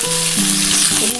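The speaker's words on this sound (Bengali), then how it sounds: "আলুর মধ্যে আমি একটু নুন একটু হলুদ দিয়ে ভাজবো।" Potatoes sizzle in hot oil with salt and turmeric for a capsicum potato egg curry, a loud, steady, close frying hiss with no talk.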